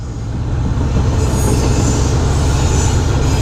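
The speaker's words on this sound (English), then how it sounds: "Wasn't expecting a train." A train rolls past close by, a loud, steady rumble and roar of railcars on the tracks that continues without a break and has no talk over it.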